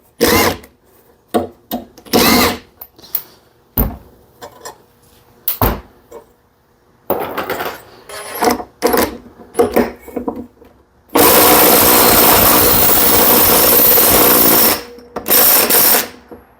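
An impact wrench fitted with a chrome socket hammers at the flywheel nut of a 46-year-old vintage lawnmower, with loud close bursts of rattling impacts of varying length separated by pauses, ending in a long sustained run and a final short burst.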